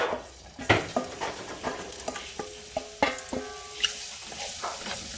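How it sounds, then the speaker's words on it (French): Sausages fry in hot oil for a jambalaya, a steady sizzle broken by repeated clacks and scrapes of a utensil stirring them in the pan, close and fairly loud. "Vas-y, fais revenir nos saucisses là."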